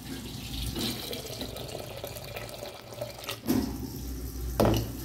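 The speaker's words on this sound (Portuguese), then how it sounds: "Aí é só abrir a torneira." A kitchen tap runs water, a steady hiss of flow in a home kitchen while beans are cooked for a pressure cooker, with a couple of clunks near the end and no talk.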